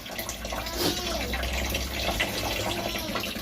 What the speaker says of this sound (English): I'm getting the dishes water ready.